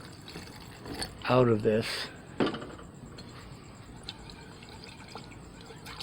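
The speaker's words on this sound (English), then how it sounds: "So I'm going to give this a rinse, probably a couple of rinses." Water trickles and splashes as a lab beaker is rinsed after a nitric acid boil, with light liquid pouring and faint clinks, while someone talks briefly.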